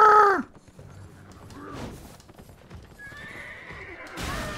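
A horse in the video game Elden Ring gives a sharp neigh at the start, followed by soft hoof clip-clops and a brief whinny, then a faint tonal rustle and a burst of noise at the close.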